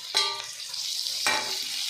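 Tomatoes with coriander and mint frying in oil for biryani, with a steady sizzle and two short bursts of stirring scrapes in the pan, close and alone.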